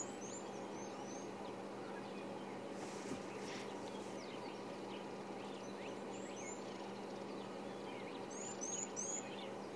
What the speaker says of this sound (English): you might also be able to hear a very high-pitched doo-doo-doo, little blue waxbills